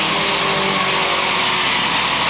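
Mini stock race cars racing at Waterford Speedbowl in 1994, a dense, steady roar of several engines droning together as the pack runs, with faint tire noise.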